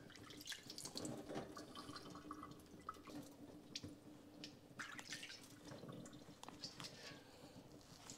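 Water drips steadily from soaked fish set aside to drain while making homemade tinapa, a soft, continuous patter of small drops close by with no talk.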